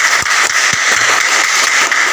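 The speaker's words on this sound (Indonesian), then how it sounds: "Bagus, tepuk tangan." A seventh-grade civics class claps together in a classroom, a loud steady patter of many hands with a few heavier thumps, continuing evenly for about two seconds.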